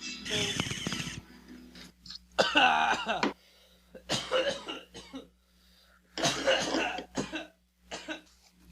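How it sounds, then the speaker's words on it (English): Several bursts of harsh, hacking coughs close to the mic, separated by short pauses, with a faint steady hum underneath. "I'll edit out all this coughing in post."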